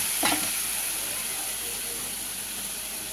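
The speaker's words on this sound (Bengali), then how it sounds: "হয়ে গেছে পেঁয়াজটা ভাজা, এবার দিয়ে দিচ্ছি সর্ষের জলটা।" Mustard paste mixed with water hits a pan of fried onions, bursting into a loud, steady sizzling hiss that continues evenly after a brief initial splash.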